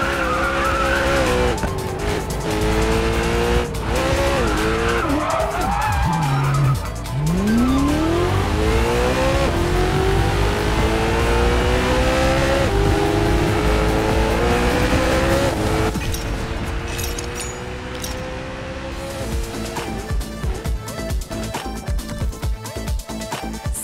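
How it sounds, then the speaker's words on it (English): Race car in the Racing Master video game speeding through a corner, with a loud sustained engine whine rising and falling through gear changes and long tire squeals and skids, continuous and close throughout. "Anyone can go fast on the straightaways, but pros can speed through the corners."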